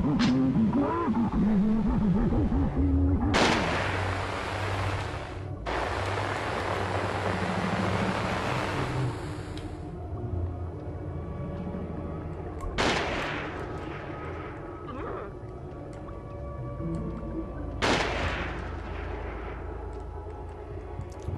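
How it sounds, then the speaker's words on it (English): Enemy gunfire in the horror video game Siren, several loud separate gunshots with long echoing tails against a low rumbling ambience, with brief quiet gaps between shots. "Is he still shooting at me?"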